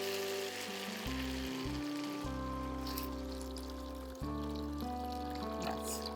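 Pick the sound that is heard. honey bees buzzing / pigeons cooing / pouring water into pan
pouring water into pan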